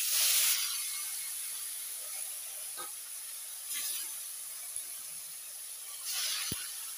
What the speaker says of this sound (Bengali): আর এখন আমি মাছগুলোকে ভেজে নেব।